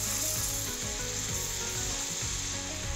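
Alfredo pasta sauce sizzling steadily in a frying pan as it is mixed, a continuous close frying hiss with soft stirring scrapes underneath and no voices.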